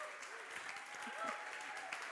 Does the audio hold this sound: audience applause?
yes